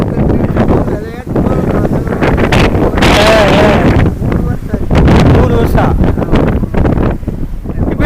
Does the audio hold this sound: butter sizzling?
no